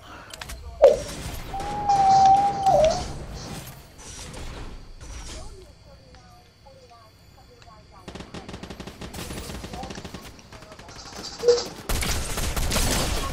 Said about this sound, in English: Where the hell are you shooting me from?